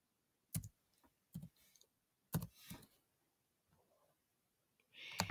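A name being typed on a computer keyboard, heard as a few sharp, close key clicks in uneven bursts with quiet gaps between them.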